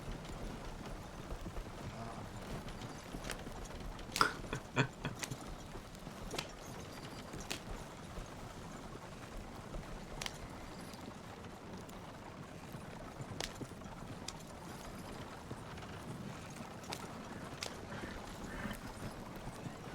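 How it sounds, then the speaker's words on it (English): Horse hooves clop along at a quiet, even pace in a western roleplay video game, fairly faint and steady, with a few sharper knocks standing out. "Horse."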